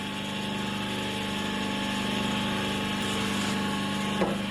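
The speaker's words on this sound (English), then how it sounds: "So we're using the router, and we turn on the sander." A router and a sander running together while a groove is cut in a wooden workpiece for a workbench, a loud steady motor whine and hum holding throughout with a brief knock near the end.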